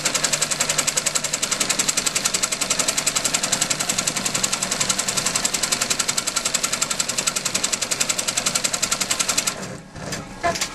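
A sewing machine pounds out rapid, evenly spaced stitches while tacking fabric onto a crazy quilt block, a loud, steady mechanical rattle that stops near the end and gives way to a few faint handling sounds.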